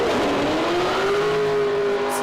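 A drift car's engine revs hard and steady at Lake Erie Speedway during a pro-am drift competition, a loud sustained roar with rising pitch held close by, no voices over it.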